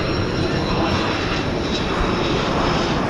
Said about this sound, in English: It's an Airbus A330 from Madrid.